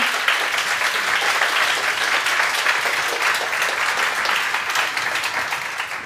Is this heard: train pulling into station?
no